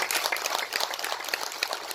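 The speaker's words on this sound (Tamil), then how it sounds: "அதற்கு ஒரு பெரிய கைத்தட்டல் விஏபிக்கு" Dense, steady applause from an audience at a Tamil film audio launch event. It is loud and continuous with no gaps, and no one speaks over it.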